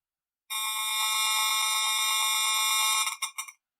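A cell phone's radio-frequency signal converted into sound, heard as a loud, continuous alarm-like electronic buzz with a fast pulsing texture, ending in a few stuttering bursts, with no other sounds.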